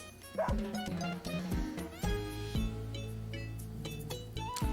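A cartoonish dog barks in a video game trailer, several short yips and woofs layered over loud, busy game music.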